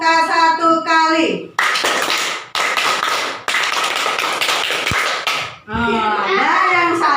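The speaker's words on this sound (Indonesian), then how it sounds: "Ibu akan kasih aplaus, yaitu tepuk pramuka" A class of children performs the Indonesian Scout clap, tepuk pramuka, loud close bursts of rhythmic clapping in patterned groups, separated by short pauses, with children's chanting voices at the start and end.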